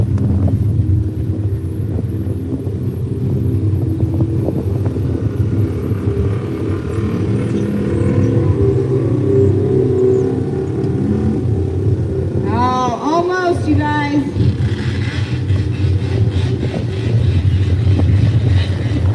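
Small-tire UTV engine at the Hay Days races, a steady loud motor drone throughout with rising revs and a whine near the middle, under a crowd and an announcer's voice talking.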